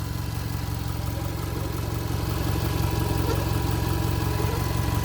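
A car engine with odd, funky noises idles steadily up close, a low rumbling drone with a faint whir, growing slightly louder partway through.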